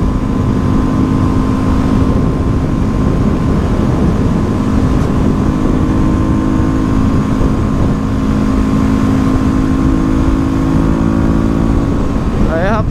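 A 300F motorcycle engine drones loudly at steady speed on the road, with a sustained whine and rushing wind throughout and a brief rev toward the end.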